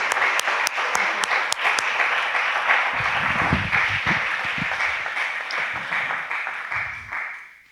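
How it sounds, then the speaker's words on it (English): A crowd applauds warmly, dense steady clapping that carries on for several seconds before trailing off. "warm applause, please, for Jeanne."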